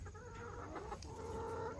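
Chickens on a farm cluck softly and steadily, a low, fairly quiet murmur of several birds close by with no one talking.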